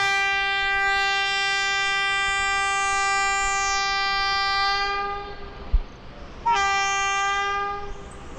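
The 12601 Chennai–Mangalore Mail, running with at least 21 coaches, passes with a loud, sustained multi-tone horn blast. A brief clank follows, then a second, shorter horn note over the steady rumble of the train.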